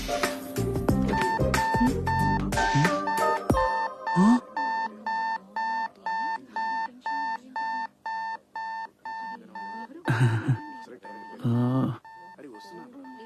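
Repeated electronic beeping from an overloaded lift, a steady train of evenly spaced tones that cuts off near the end, with speech and movement around it at the start and close to the finish.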